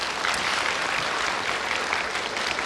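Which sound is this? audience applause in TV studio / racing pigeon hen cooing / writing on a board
audience applause in TV studio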